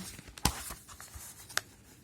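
Pen strokes writing an equation: quiet scratching and tapping on paper with a couple of sharper clicks, close and faint, without talk.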